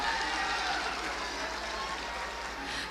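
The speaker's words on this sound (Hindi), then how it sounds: "जोरदार तालियां" Dense applause fills the whole stretch at a Bihar stage event for a national highway project foundation ceremony, a steady crowd clapping wash with faint voices underneath.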